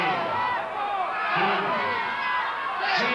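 A large live crowd at a 1990 CWA professional wrestling match between Bull Power and Rambo roars and chatters steadily throughout, a dense sustained wall of noise with occasional swells.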